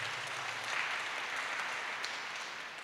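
Congregation at a Kikuyu church service clapping for Jesus, a sustained wash of many hands applauding, fairly distant and moderate, fading slightly toward the end.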